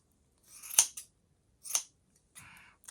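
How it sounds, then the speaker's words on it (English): Big scissors trim a chunky yarn pom-pom, three or four sharp, close snips separated by short pauses, with nothing else around them. "So we have to do a bit of trimming. That's what the big scissors are for."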